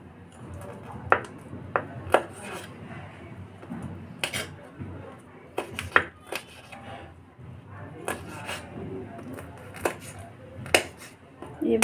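A knife chops onion, tomato, coriander and chillies on a board in a series of sharp, irregular strikes. The chopping is close and clear over a low kitchen background, with no talking between the cuts.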